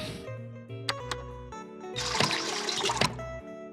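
Water pouring while making bread dough in Bakery Simulator, a brief trickling splash with clinking kitchen clatter, quiet and close.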